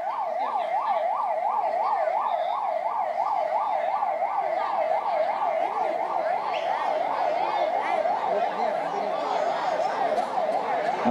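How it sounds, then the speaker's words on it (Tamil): A 108 ambulance siren wails loudly and continuously in a steady, rapidly repeating rise-and-fall pattern, close and prominent over faint background noise. "தயவு செய்து 108 ஆம்புலன்ஸ் வந்துக்கிறதுக்கு கொஞ்சம் அந்த ரோட்ல நிற்கிறோம் கொஞ்சம் வழி விடுங்க"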